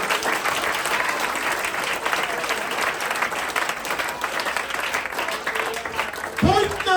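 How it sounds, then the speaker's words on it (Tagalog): A church congregation gives the Lord sustained applause, with dense clapping from a crowd filling the room for several seconds before a voice begins speaking at the end. "malakas na palakpak para sa ating Panginoon"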